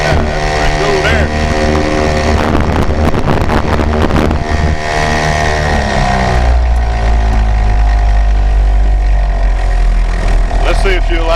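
A 2 HP Johnson Sea Horse outboard motor runs in the water with a steady buzzing drone that holds near and loud throughout, shifting lower as it idles back for slow trolling, with wind across the microphone.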